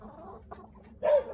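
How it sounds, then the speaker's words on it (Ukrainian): A couple of soft clucks from a backyard chicken nearby at feeding time, followed by a louder, drawn-out squawk at the end. "Прийшла покормити курочок."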